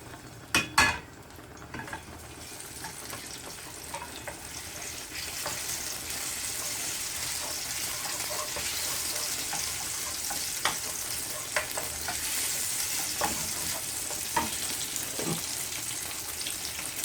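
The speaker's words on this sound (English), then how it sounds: "Then we're going to add our peppers. That's our scotch bonnet pepper right there. Give that a few minutes to heat up." Scotch bonnet peppers fry and sizzle steadily in a hot pan for a yam and egg dish, a dense continuous hiss with a few sharp utensil clinks and stirring knocks, no talking.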